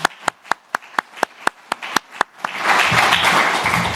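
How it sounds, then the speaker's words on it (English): At an awards session for pig farmers, a single person claps about ten times in a steady rhythm, then a fuller round of audience applause swells and continues to the end. "Yeah, we can applaud."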